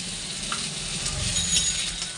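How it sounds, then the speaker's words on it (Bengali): Pointed gourd (potol) frying in oil with salt and turmeric, a steady close hiss of sizzling oil with faint stirring underneath, even and unbroken for a couple of seconds. "আমার পটলটা কিন্তু ভাজা হয়ে গেছে। আর এটার মধ্যে আমি একটু নুন আর একটু হলুদ দিয়েছি"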